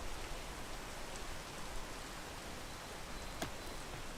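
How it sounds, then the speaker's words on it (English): Outdoor rainfall makes a faint, even hiss, a steady wash of drops heard from indoors with no one talking. "Oh wait, hold on, it's raining."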